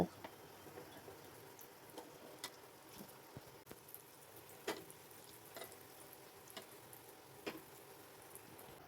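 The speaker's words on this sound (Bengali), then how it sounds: "দু পিঠ আস্তে আস্তে করে ভালো করে ভেজে নেব।" Potato and pea tikkas fry gently in a little oil on a hot tawa: a faint, steady sizzle with scattered soft ticks and pops.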